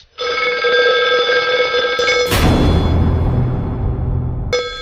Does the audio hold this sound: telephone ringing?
yes